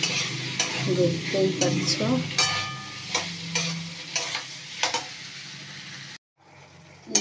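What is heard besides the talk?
stirring mixed vegetables frying in a pan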